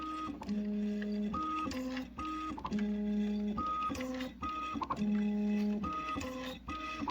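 A Matrix Filler Wizard machine filling disposable packages runs in a steady mechanical cycle, with repeating motor whines and stepping tones like a printer carriage, plus clicks between strokes, close and continuous with no talking.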